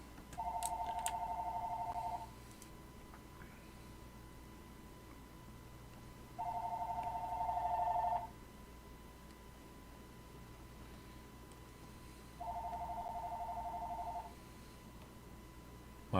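A phone ringtone sounds in three evenly spaced electronic warbling bursts about two seconds long, with pauses of roughly four seconds between them, fairly faint over a steady background hum of computer fans.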